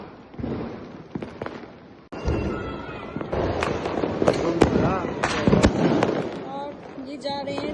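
Diwali night fireworks and firecrackers, including sky shots and bombs, go off all around in rapid sharp cracks and bangs over a continuous crackling din, with people talking nearby.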